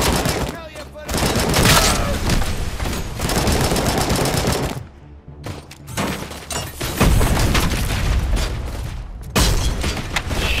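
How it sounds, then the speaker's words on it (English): Rapid bursts of gunfire from hip-fired weapons in the video game Robocop: Rogue City, loud and heavy with booms and shattering impacts, a brief lull midway, then more sustained shooting. "Some hip fire."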